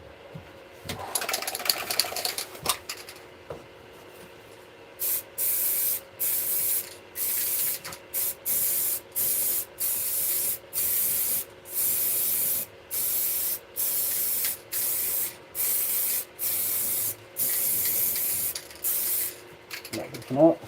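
A spray can hisses in repeated short bursts while resin-printed miniatures are painted, about a dozen evenly spaced sprays up close after a brief handling noise at the start.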